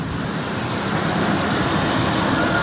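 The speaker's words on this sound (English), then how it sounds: "It's like kind of misfiring on and off" Close, steady rumble of a Ford truck engine running rough and misfiring on and off, a continuous loud drone alone without talk.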